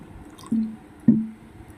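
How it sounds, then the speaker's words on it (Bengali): Bael fruit pulp mashed by hand with sugar and water gives two soft, wet squelches, close up and a little apart, over a quiet background. "চিনি দিয়ে দেব আর একটু জল দিয়ে ভালো করে আমি চটকাবো এটাকে"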